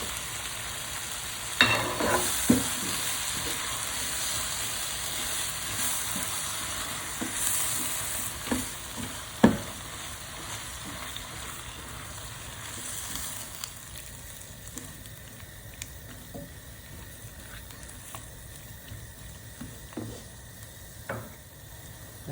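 Tomatoes frying in a pan for a chicken curry are stirred, giving a steady close sizzle broken by occasional scraping knocks of the spoon, with no talking.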